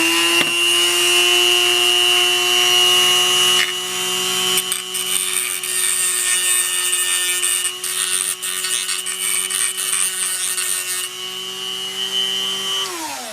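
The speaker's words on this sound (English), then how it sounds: "just slowly go to the inside of the locomotive here and just grind away at this these ribs" A high-speed rotary tool grinds away plastic ribs inside a Tyco C430 model locomotive shell, a loud continuous whine with steady pitch that drops briefly as it bites, then winds down at the end.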